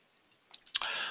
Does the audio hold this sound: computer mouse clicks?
yes